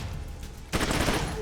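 Gunfire from the tactical video game Troubleshooter: Abandoned Children bursts in after quiet, a dense loud crackle of shots that keeps going to the end with no talking.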